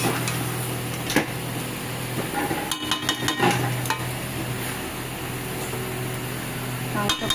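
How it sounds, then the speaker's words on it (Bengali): Meat is sautéed kosha-style in a pan, with a continuous low sizzle and a burst of stirring clatter and scraping partway through. "এই যে মাংসটা কষাচ্ছি, কষাতে বসিয়ে দিয়েছি।"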